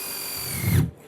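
Power drill driving color-match screws into composite deck boards, a steady close whine that dips in pitch and stops abruptly after about a second.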